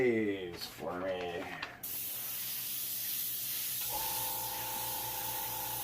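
An airbrush sprays opaque black paint thinned by over half, a steady close hiss that starts after a short burst of speech and continues evenly to the end, with a slight shift in tone partway through.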